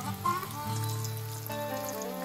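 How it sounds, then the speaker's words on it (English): Scotch eggs fry in hot oil with a continuous close sizzle and crackle, mixed with a steady tonal hum throughout. "You hear that sizzle?"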